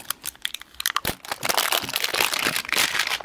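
Packaging for Xiaomi 799 DK edition earphones is unwrapped, with dense, close crinkling and crackling of plastic and paper that begins in sparse bursts and then runs almost continuously.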